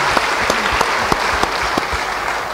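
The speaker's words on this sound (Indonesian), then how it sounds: "Beri tepuk tangan yang baik bagi Dia." A church congregation applauds loudly and continuously during a service, with dense clapping and a few sharper individual claps standing out.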